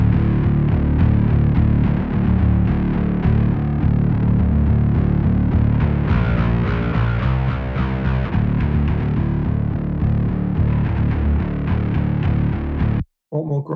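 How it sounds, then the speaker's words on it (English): A heavily distorted metal bass runs through the BassReaper plugin with its sub layer added, a loud, grinding riff sustained for about twelve seconds before stopping abruptly, then a brief restart. "I will put the sub back in just so that we've got the context of how this distortion sounds"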